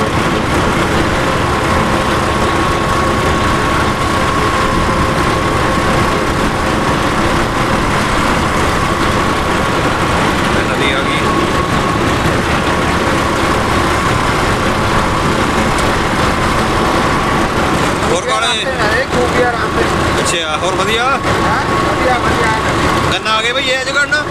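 A tractor engine runs steadily nearby on a farm in Punjab during sugarcane season, a continuous rumbling drone with voices talking over it and a few clattering knocks near the end.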